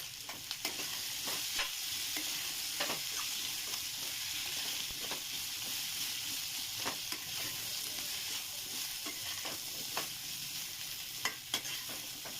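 Cauliflower with chili powder sizzles in a pan while being stirred, a soft constant frying hiss broken by occasional scraping strokes of the spoon, with no talk.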